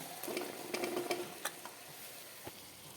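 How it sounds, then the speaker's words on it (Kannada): Corn kernels (maize) frying in a pan, with a spoon clacking as they are stirred; scattered scrapes and soft ticks over a quiet, low hiss of sizzle, faint and close, no voices. "ಈಗ ಫ್ರೈ ಮಾಡುವ ಇದನ್ನು"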